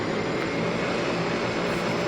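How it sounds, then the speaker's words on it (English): An E42 aircraft engine roars in flight on a scouting mission over a mountain area, a loud, steady, unbroken drone with no pauses. "The plane was scouting around the mountain area"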